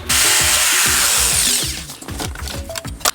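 Jigsaw cutting wooden geometric shapes outdoors, loud rapid buzzing reciprocation with a rhythmic chopping pulse, then the motor winds down and stops, leaving a few light knocks.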